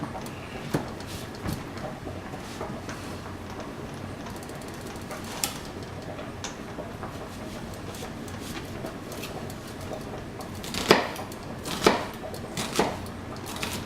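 An onion is cut with a knife on a board while a pasta salad is prepared, heard as a few sparse, fairly faint knocks against steady background noise, with a small cluster of sharper chops near the end.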